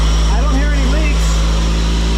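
Idling 2005 Ford Focus with a failing power steering pump, a loud steady engine drone with a constant whining tone, close up, while someone talks over it.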